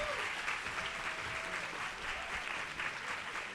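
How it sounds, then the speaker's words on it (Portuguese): An audience applauds for Vera Iaconelli at a talk event, steady sustained clapping filling the room with a faint voice briefly over it. "Palmas para Vera."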